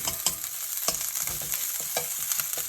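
Garlic sizzles and fries in a pan with a steady bright crackle, punctuated by irregular scraping taps of a utensil stirring it.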